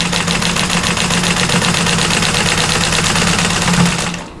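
A vintage 1947 Singer 15-90 sewing machine runs steadily at a modest pace while quilting, its needle mechanism giving a fast even clatter with a low motor hum, close and loud before stopping at the end.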